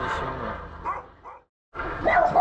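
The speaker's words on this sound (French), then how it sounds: "il y a même un chien qui crie." A dog barks and yelps in an inhabited village near Paris, a few short calls at moderate distance, with voices and background noise around them and a brief silent gap.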